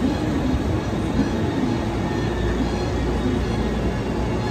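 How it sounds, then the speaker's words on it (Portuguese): A train pulls into Shimamiya station in Osaka, its steady loud rumble of wheels and carriages filling the scene continuously with no voices. "Chegou meu trem para Sakuranomiya."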